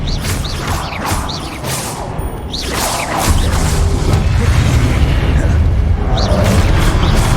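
An Expelliarmus spell cast in Hogwarts Legacy during Rackham's Trial: repeated booming magical bursts with creaking, mechanical rumbles over a steady, loud game soundscape.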